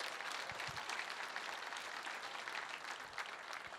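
Audience clapping steadily at a fundraising gala, a dense, even wash of applause from a crowd, moderately distant and sustained throughout.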